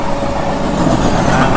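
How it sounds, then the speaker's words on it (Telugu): Tatanagar–Ernakulam express train passing near Renigunta, a loud steady rumble of wheels and carriages rolling by close, continuous for the whole stretch with no voices. "మనకు టాటా నగర్ ఎర్నాకుళం ట్రైన్ అయితే వెళ్తుంది."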